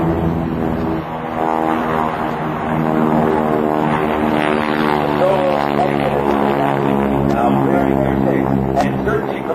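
A GEICO Skytypers propeller airplane passes on a solo bomb run at an air show, with a sustained droning engine tone that swells and holds and a faint voice over it.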